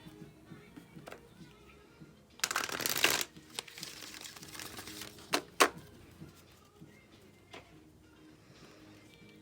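Gaia Oracle cards shuffled in a brief burst of papery riffling and rustling, followed by a few scattered soft card and handling sounds in a quiet room.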